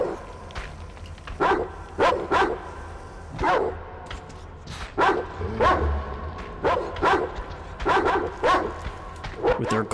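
Caged dogs bark repeatedly in a Metro Exodus game scene, a loud, irregular chorus of sharp barks and yips, some overlapping, with occasional whimpers between bursts and no talk over them.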